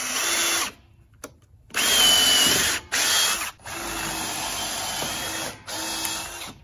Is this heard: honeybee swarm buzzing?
no